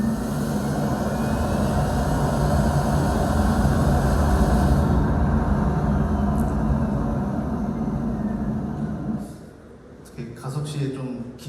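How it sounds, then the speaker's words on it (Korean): Steady low rumble and road hum fill the cabin of a new Hyundai Nexo as it accelerates, loud and even for most of the stretch, then dropping away near the end as a few brief knocks follow. "넥소의 가속 시 소음입니다"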